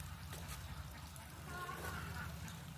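Ducks on a village pond on a winter morning, with a few faint quacks and honks rising briefly over a steady low rumble of outdoor background noise.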